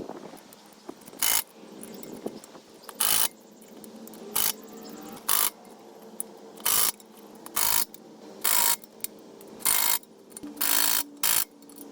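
A wrench tightening wheel bolts on a Nissan S13 with Nismo LMGT2 wheels, crisscross around the hub, sharp evenly spaced ratcheting clicks in short bursts over a low mechanical hum, close and without talking.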